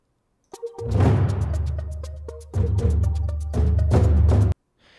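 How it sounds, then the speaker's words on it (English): A short orchestral music cue builds with rumbling low percussion and bright swells, pauses briefly, then surges again before stopping abruptly. "what I would call a composed transition"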